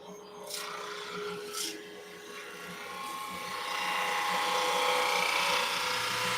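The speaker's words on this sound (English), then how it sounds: "now I got to come over here and turn on the drum sander, which is not that loud" A drum sander runs, feeding an epoxy-and-wood workpiece through with a steady rasping whir. It builds gradually louder and stays close over a faint motor hum, with no one talking.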